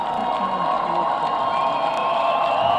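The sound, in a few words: football stadium crowd cheering a run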